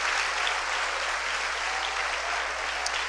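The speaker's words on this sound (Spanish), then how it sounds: "Un aplauso a Cristo." A church congregation applauds steadily and densely throughout, a continuous wash of many hands clapping close and loud, with no pause or letup.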